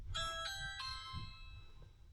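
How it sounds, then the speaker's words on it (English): A doorbell rings with bright, tonal ding-dong chimes, three struck notes in quick succession that ring on and fade, heard over low rumbling background noise with no speech. "That'll be the doorbell"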